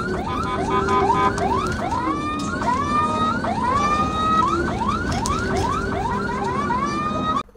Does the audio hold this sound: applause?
no